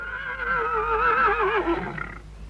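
A horse whinnies loudly and close, a long wavering neigh that trembles and falls away over about two seconds, with no voices over it.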